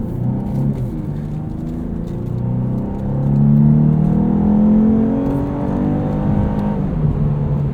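Interior drive of a heavy 2022 Lexus IS 350 F-Sport with all-wheel drive: a steady low engine drone over road noise that climbs in pitch as the car accelerates, peaks midway, then eases back, with no talking.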